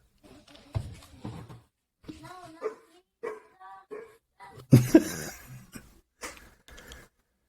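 A household dog gives a few short barks and whimpers, mixed in with people talking and a throat clear nearby in a quiet room.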